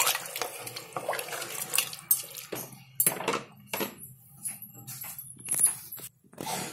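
Water splashes and pours into a metal pot in several bursts for vegetable pulao, with clanks and scrapes of cookware between pours, close by.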